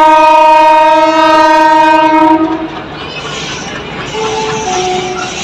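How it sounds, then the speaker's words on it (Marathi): The Talegaon local train at a station, its loud, steady horn blaring close by for a couple of seconds, then giving way to the rumble and rattle of the passing train. "लोकल तर आपल्या मागे तळेगावची लोकल आहे"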